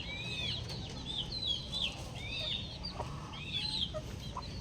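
A bulik rooster makes repeated short, high clucks and chirps in bursts over a constant low background hum, fairly close.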